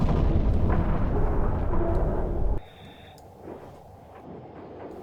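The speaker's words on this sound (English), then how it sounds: "Explosions off to the side and most likely behind us" Explosions rumble in the Silent Hunter 3 submarine game, a loud, dense, sustained low roar that cuts off abruptly halfway through and gives way to quieter ambience.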